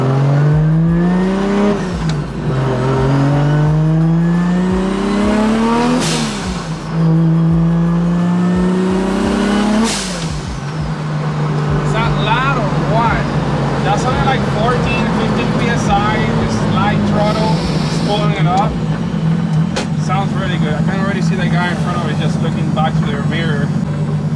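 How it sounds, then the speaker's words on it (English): A 2JZ-swapped BMW E36 accelerates hard on a road, its engine revving up through repeated gear pulls with rising pitch and drops at each shift, then settling into a loud steady drone, with turbo spool and chatter. "So you guys get to hear how amazing this car sounds on the road"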